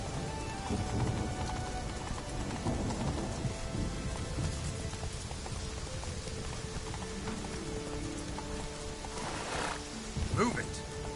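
A horse in The Witcher 3 is spurred forward amid rain and ambient noise, with a whinny and a snort near the end, while voices are heard over the scene.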